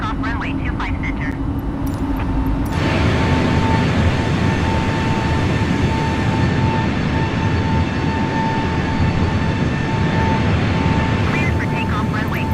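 A heavy airliner's engines spool up into a loud, steady roar for a takeoff roll in Microsoft Flight Simulator 2020, preceded by a quieter cabin hum and radio chatter, then sustained through to the end.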